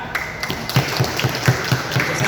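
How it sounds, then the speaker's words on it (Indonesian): Applause at a members' meeting, a moderate crowd clapping with a few stronger, evenly spaced beats standing out in a loose rhythm against a noisy room. "Tepuk tangan."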